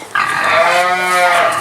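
A pig on a farm gives a loud, sustained squealing grunt lasting over a second, close to the listener, with no talk over it.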